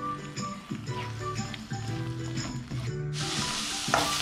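Grated coconut sizzles as it dries in a pan for a Kerala-style ash gourd moru curry. The frying crackle is steady and close, with intermittent stirring scrapes and a brighter burst of sizzle near the end.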